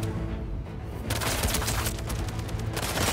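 Enemies open fire in Spider-Man 2, a continuous volley of dense, overlapping shots and booms that holds loud and steady throughout, swelling slightly after the first second.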